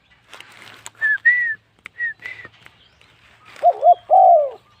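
Imported Malaysian dove cooing in a short run of rounded, whistled coos, with a couple of brief higher calls near the start and a louder, closer burst of coos at the end, with no talking.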